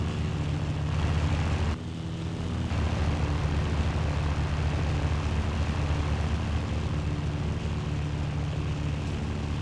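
A World War II propeller airplane in the video game Battlefield 1942 drones steadily and loudly throughout, its engine roar dipping briefly near the start before settling back to a constant, close hum.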